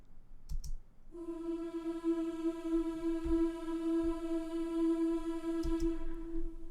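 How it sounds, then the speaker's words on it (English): A choir holds a single sustained mid-range pedal tone steadily from the second second onward, rich in overtones, with a few soft clicks and knocks around it. "here we have a pedal in the mid range in the choir"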